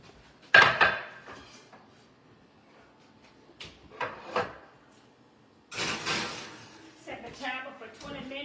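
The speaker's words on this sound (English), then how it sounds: "So I'll put this in the oven." A dish goes into a home kitchen oven, with a sharp metallic clank of cookware, a few lighter knocks, and a rattling slide and bump of a rack or oven door, with quiet pauses between the sounds.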